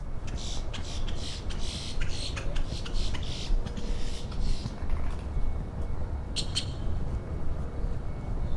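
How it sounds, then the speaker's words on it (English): Birds squawk and chirp in bursts along a residential street in Richmond Hill, Queens, sharp calls repeating over steady traffic and city rumble, moderately near. "I guess the birds are acting up right now."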